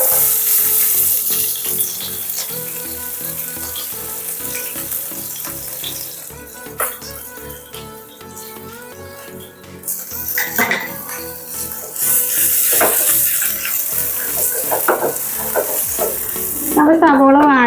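Onions sautéing in a pan for beef cutlet, a steady sizzle and fry with repeated stirring and scraping of a utensil against the pan throughout, fairly close and loud, with no talking.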